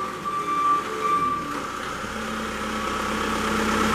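A 2017 Prowler P55 truck-mounted piggyback forklift runs with its motors going, a steady mechanical drone with a faint whine on top, holding a constant level throughout.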